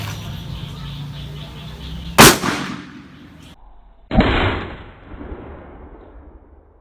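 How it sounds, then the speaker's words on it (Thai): Taurus Raging Bull .44 Magnum revolver fired into a brick from about 10 metres: two loud, sharp gunshot cracks a couple of seconds apart, each with a short decaying echo outdoors. "เดี๋ยวคราวนี้ผมจะลองยิงอิดนะครับ ระยะ 10 เมตรฮะ"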